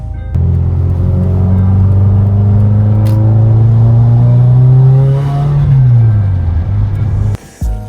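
A Subaru WRX drives and accelerates, its engine a loud, close rumble climbing steadily in pitch through the gears, dropping briefly before a short cutoff near the end, no voices.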